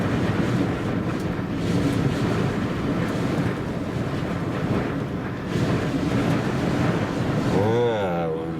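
Strong wind blasts across an open field at Cadillac Ranch, a constant loud roar buffeting the microphone, with a brief voice near the end.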